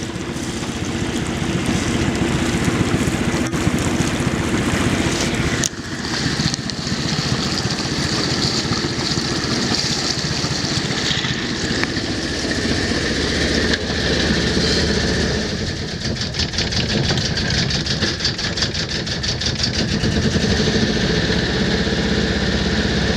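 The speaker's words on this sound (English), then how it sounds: "That's about the most throttle you should give the boat" The inboard engine of a Tartan 27 sailboat runs at full throttle, a loud, steady, rumbling drone that continues unbroken, with no talking.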